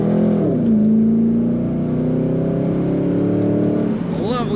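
A 2003 Chevrolet Corvette 50th Anniversary convertible's V8 exhaust revs up loud and close, a steady rising drone that climbs through the gears for about four seconds before easing off, with a brief shift-like dip near the start.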